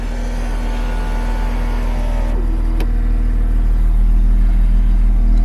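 Mazda RX7 FD3S Touring X, an automatic, with a V-banded downpipe and exhaust, driving; a steady low rotary drone and rumble holds close and loud throughout, building slightly toward the end.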